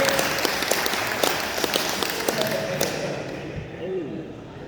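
Audience at a talk in a villa claps in a brief scattered burst, uneven taps and thumps fading out while voices murmur underneath.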